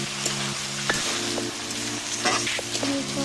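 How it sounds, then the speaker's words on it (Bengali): Fried soybeans being stirred into a vegetable curry in a pan, with a steady sizzle and occasional scraping clicks of the spoon running throughout, close and moderately loud under a sustained tonal background. "সয়াবিনগুলো দিয়ে ভালো করে নেড়ে চেড়ে দিতে হবে।"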